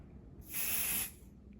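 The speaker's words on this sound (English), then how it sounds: "Yeah, spray it on you." A single aerosol spray can fired in one hard hiss of about half a second, close and fairly loud against a quiet room, with no talking.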